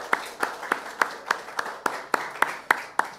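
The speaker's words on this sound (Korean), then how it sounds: "박수로 한번 환영하겠습니다" Church congregation clapping at a Sunday service to welcome new members, a short burst of about a dozen sharp, evenly spaced claps at moderate volume.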